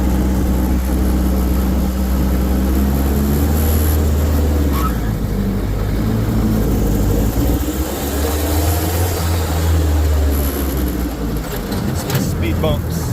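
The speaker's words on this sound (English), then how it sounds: "The turbo spool on this is actually amazing." A Kubota diesel engine swapped into a 6x6 Willys Jeep drones low and steady while a turbo spools with rising and falling whine, with a person talking over the engine throughout.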